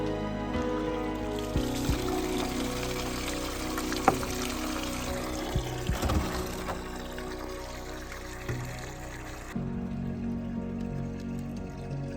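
Water pours steadily from a mountain spring, a continuous splashing wash that keeps going the whole time with a few brief knocks and shifts, no voices over it.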